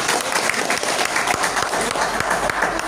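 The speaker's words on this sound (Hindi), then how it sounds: "तो डॉक्टर लिम के लिए ताली बजाएं" Loud, dense audience applause at a health and beauty coaching event, with many hands clapping close by in a continuous roar and a few sharper claps standing out.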